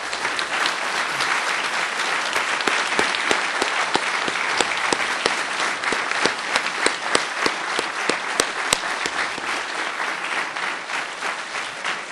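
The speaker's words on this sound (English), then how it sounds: "if we could give them a round of applause as well for all their hard work" Graduation ceremony audience in a hall applauding the master's and PhD thesis advisors, loud sustained clapping from a large crowd holding steady throughout with no talk.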